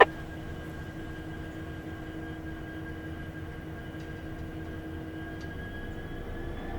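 A steady low rumble of a stationary NBSR freight locomotive, number 6418, with a sustained hiss of air brakes releasing, continuous and even throughout, fairly close with no voices.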